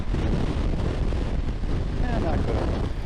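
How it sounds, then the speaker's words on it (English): Strong wind buffeting a microphone on a Kawasaki Versys 1000 motorcycle riding through open Dakota country, a loud, steady broadband roar with gusty swells that fills the whole stretch. "Windy day. Very windy."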